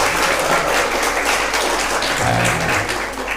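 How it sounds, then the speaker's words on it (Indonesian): Dense, steady audience applause fills a lecture hall at a student enrichment talk, loud and continuous throughout, fading slightly at the end with no voices over it. "Tepuk tangan dong ini ya"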